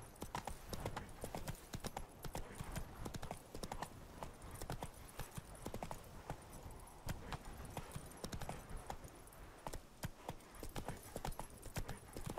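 Horse hooves trotting through a town in The Witcher 3: Wild Hunt, a steady, even clip-clop rhythm, fairly close and continuous without background music.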